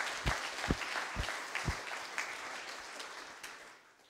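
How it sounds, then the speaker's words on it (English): Faint applause from a conference audience at a European BPM round table, a soft wash of clapping with a few louder claps standing out, gradually fading. "Warm applause."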